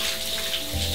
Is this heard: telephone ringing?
no